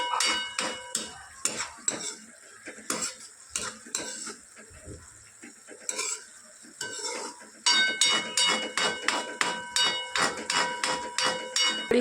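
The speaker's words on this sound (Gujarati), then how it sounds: "ચમચાની મદદથી થોડીવાર સહેજ હલાવી પાછું" Onions cooking in a pot are stirred with a spoon, giving repeated metal scrapes and clinks against the pot in an irregular then steadier rhythm, close and fairly loud, with a soft sizzle underneath and no talking.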